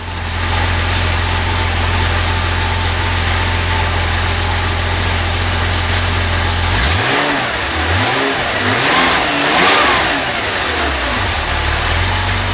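A Porsche 911 engine with a newly welded exhaust runs steadily at close range, its low idle rumble giving way to a few throaty revs in the second half, loud throughout with no talking.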